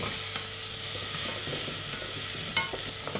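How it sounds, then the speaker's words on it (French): Shallots and Jerusalem artichokes sauté in olive oil, giving a loud, close, continuous sizzle with soft stirring scrapes and a small clack partway through. "Mettre les échalotes, assaisonner avec une pincée de sel. Et les suer une petite minute. Ajoutez les topinambours."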